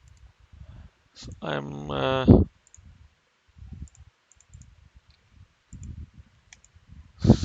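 A computer mouse clicks during structural modeling work in PDS Frameworks Plus software: a few sharp clicks near the end, with someone speaking briefly earlier and a tonal burst before that.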